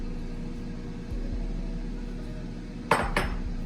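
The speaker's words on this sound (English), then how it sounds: "So now I'm gonna grab a bigger bowl, so this way we can mix it." A bowl and dishes are handled in a kitchen while tabbouleh is prepared: a low steady room hum, then two sharp ceramic clinks near the end, close and fairly loud, with no talking.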